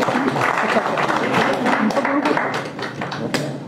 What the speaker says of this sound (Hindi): जोरदार तालियों के साथ इनका स्वागत